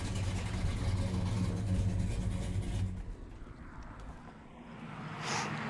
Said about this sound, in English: Nice running motor